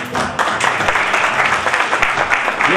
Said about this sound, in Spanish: el aplauso para Carlos